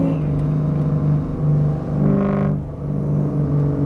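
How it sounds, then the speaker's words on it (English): A 1994 Ford SVT Cobra with about 40,000 miles idles with a deep, lumpy rumble, then briefly revs and settles back, heard close and steady from inside the car. "Man, this car sounds badass."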